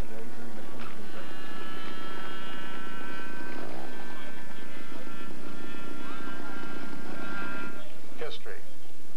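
A radio-controlled scale model airplane lands at the 1993 US Scale Masters, its engine a steady buzzing drone that lasts throughout. A voice talks over it much of the time.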